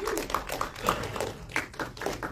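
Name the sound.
audience clapping at a press event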